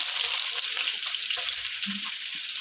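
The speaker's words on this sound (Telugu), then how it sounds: "ఇవి బ్రౌన్ కలర్ వచ్చేవరకు వేసేసుకుందాం" Onions fry in a mix of oil and ghee for chicken dum biryani, giving a soft, steady sizzling hiss with a few faint stirring sounds underneath.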